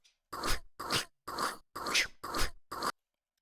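A spitter enemy's attack in The Explorer: 3D Game Kit, heard as six evenly spaced, loud, gravelly bursts like crunching bites, each about a third of a second, alone with no talk.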